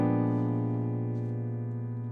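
On a keyboard, a sustained jazzy altered chord rings out, rich and steady, with a faint higher touch partway through and no voice.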